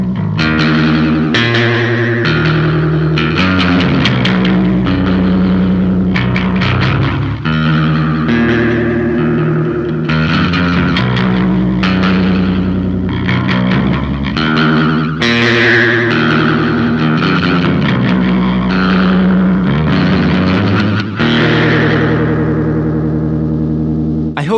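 Electric guitar played through a Swampwitch Season of the Witch modulation pedal set to shallow depth, high offset and a fast rate, giving a loud, continuous stream of chords and riffs with a wobbling, effected shimmer and no talking.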